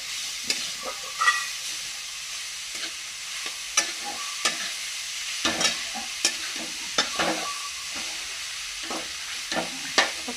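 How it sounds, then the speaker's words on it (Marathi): Grated carrot roasting in ghee for carrot halwa, with quiet frying and a string of close, crisp scraping stirs against the pan at an uneven pace. "तुपामध्ये छान असा भाजून घ्यायचा"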